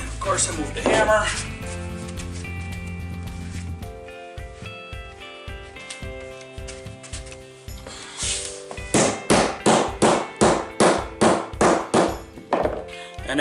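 A hammer taps Life Proof flooring planks into place, first scattered thuds, then a rapid run of a dozen sharp, evenly spaced knocks, loud and close.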